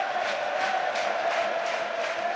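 Home supporters at a Hearts football match in Edinburgh against Rosenborg keep up a steady, dense roar, with a broad wash of crowd noise and faint cheering that holds even across the whole stretch.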